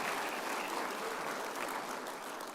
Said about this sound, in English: Oh, you should clap. If you knew, you'd clap.